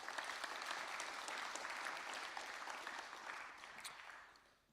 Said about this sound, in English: big round of applause for those people